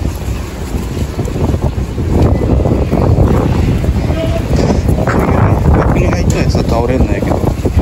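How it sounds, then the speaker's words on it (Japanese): Strong wind buffets the microphone in steady, heavy gusts beside outdoor planters where seedlings are being knocked over, with a person talking over the roar throughout. "風が強いけんね"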